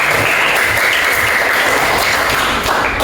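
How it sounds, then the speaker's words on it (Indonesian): Steady, full applause from a room of participants at a university teacher-training session in Semarang, dense and even throughout with no talk over it. "Berikan tepuk tangan Pak"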